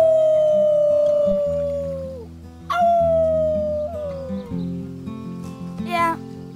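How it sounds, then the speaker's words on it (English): Characters in Life is Strange 2 doing a team wolf howl, several long drawn-out voice howls one after another over background game music, loud and close. "Let's start with our team howl."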